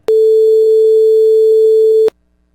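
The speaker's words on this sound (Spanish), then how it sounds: "vamos a escuchar un tono de aproximadamente 440 Hz, lo cual se corresponde a la nota musical La" A pure sine tone at about 440 Hz, the musical note A, held steady and loud for about two seconds and then stopping abruptly into silence.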